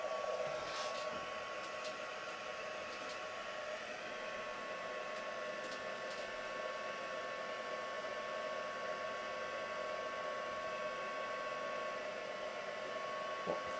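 A heat embossing tool blows hot air in a steady, continuous whoosh with a faint electric whine, running unbroken at close range with no talking.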